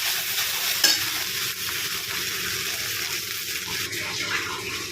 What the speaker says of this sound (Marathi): इकडे आपली भेंडी छान प्रकारे अशी फ्राय झालेली आहे